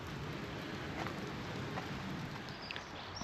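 Steady heavy rain falling at Hopton during a village snowdrop walk, a dense continuous hiss of drops on surfaces with occasional louder patters, fairly close and without voices.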